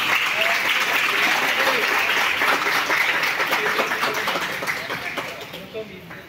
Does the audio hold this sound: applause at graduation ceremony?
yes